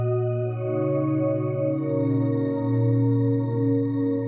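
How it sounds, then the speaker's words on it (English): A sustained Omnisphere 3 synth preset blends a synth oscillator with a sample oscillator, giving a steady, layered drone with a slowly wavering texture at moderate level, alone. "This synth oscillator with this sample oscillator, and using those two together, and that's the sound you hear."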